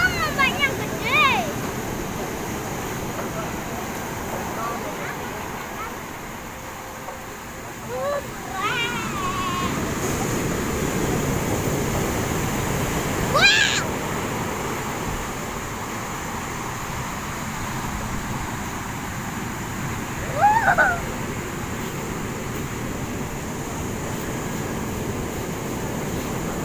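Large ocean waves break at Berawa Beach in Bali as a steady, broad roar of surf fills the background, while people talk intermittently over it.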